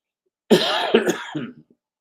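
A single person clears their throat and coughs, a short close burst of two or three rough hacks fading out, alone in quiet.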